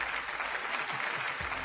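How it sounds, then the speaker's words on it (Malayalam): Studio audience applause on a Malayalam TV game show, a steady dense clatter of clapping hands that holds evenly throughout at moderate loudness, with no voices over it. "നല്ലൊരു കയ്യടി."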